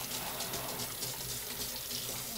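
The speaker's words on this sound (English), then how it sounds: "we're going to wash our hands" Tap water runs steadily into a sink as hands are washed before assembling a lasagna, a continuous broadband hiss with no talk over it.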